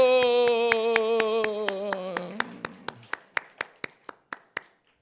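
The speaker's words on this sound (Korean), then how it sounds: "박수." Evenly spaced claps ring out at a Sunday morning Methodist church service in Miryang, crisp and regular, first under a sustained tonal drone and then alone, slowing slightly and fading toward the end.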